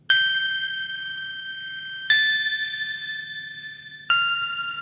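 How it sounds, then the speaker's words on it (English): UVI Cinematic Shades Afterlife synth patch playing a slow, bell-like melody, three clear chiming notes struck about two seconds apart, each ringing and fading gently over a soft, low sustained pad. "Very nice, almost bell-like sound."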